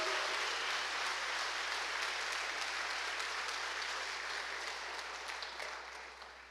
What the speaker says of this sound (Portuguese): Se você crê que Jesus está aqui, aplauda o Senhor, querido.